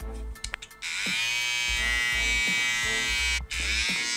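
BaByliss Pro Gold FX hair trimmer switched on and running close up, a loud steady electric buzz with a few clicks at startup and one brief dip near the end.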